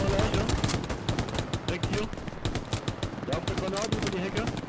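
Gunfire in the World War II shooter Hell Let Loose on Utah Beach, rapid bursts of rifle and machine-gun shots crackling near and far in an uneven rhythm, with players talking over the battle.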